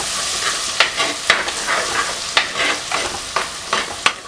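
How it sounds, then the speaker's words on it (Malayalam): Crushed garlic sautés in a pan for a Kerala duck pepper roast, a steady soft sizzle broken by several sharp scraping stirs of a spoon against the pan, close and clear with no talking. "വെളുത്തുള്ളി 2 ടേബിൾ സ്പൂൺ ചതച്ചത്. ഒന്ന് വഴറ്റിയെടുക്കാം."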